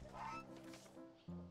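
A goose in the Wytchwood video game gives a short, honking call in a couple of rough bursts, close and fairly loud, with a deeper tone cutting in at the end.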